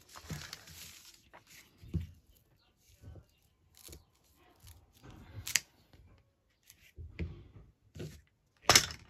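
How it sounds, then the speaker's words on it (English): Pink paper ephemera being torn off by hand, several short sharp ripping bursts separated by quiet gaps, with soft handling thumps and crinkles in between, close and dry. "Let's tear it off and stick it on."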